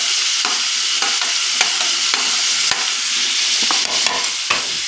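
Onion and tomato fry in a pan while a spoon stirs them, producing a loud steady sizzle broken by repeated scraping and clinking strokes of the utensil.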